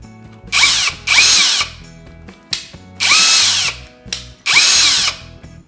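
An EnerTwist cordless power drill whirs in four bursts of high-pitched spinning, each starting and stopping sharply, with a brief blip and quiet clicking between runs, close up with no talk.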